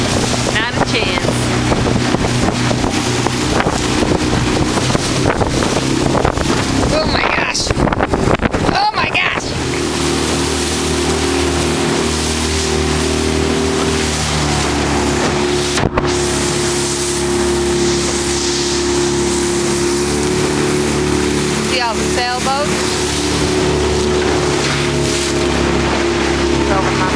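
Continuous loud engine drone and rushing wind on a boat ride across open water, with a brief rumbling shift midway, the motor steady and close, voices faintly in the mix.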